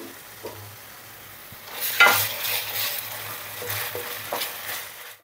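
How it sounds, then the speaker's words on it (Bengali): Chopped onion with ginger-garlic paste fries in a pan for butter chicken. A low hiss turns into a louder, steady sizzle about two seconds in, with stirring scrapes on top. "দিয়ে কিছুক্ষণ আদা রসুনটা কাঁচা ভাব যাওয়া অবধি ভাজবো।"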